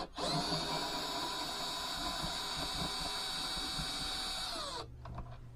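A power screwdriver whirs steadily to unscrew the housing of a Zelmer meat grinder for disassembly, a close, continuous high whine lasting several seconds before cutting off abruptly.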